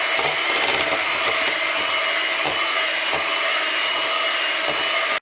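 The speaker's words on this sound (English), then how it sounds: "you're going to need an electric beater" An electric beater whirs steadily at medium speed through coconut cake batter, a close, even motor hum with faint rhythmic knocks against the bowl, cutting off abruptly at the end.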